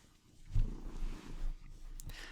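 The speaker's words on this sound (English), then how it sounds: "And that's my cat purring, if you can hear that." A domestic cat purrs close by as low, rumbling pulses that swell and fade a couple of times over a quiet background.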